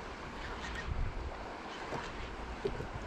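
Ocean waves wash around a fishing boat out on open water, a continuous rough rush mixed with gusting wind buffeting the microphone, and no voices.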